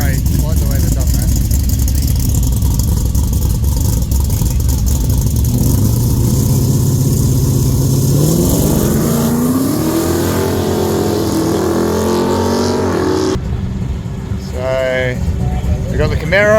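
Ute engines idle and rev at a no-prep drag racing event, a loud continuous engine roar with a rising rev sweep, heard under someone talking close to the microphone.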